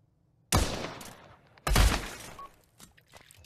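Gunfire in the VR shooter Pavlov: two loud, close bursts of rapid shots, each ringing briefly into a decaying tail, followed by scattered faint clicks.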